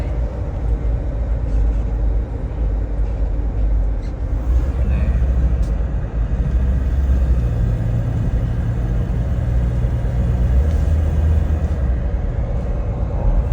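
A car on a test drive after a gearbox repair with fresh gear oil, heard from inside as a steady, loud low engine and road rumble that continues throughout without breaks.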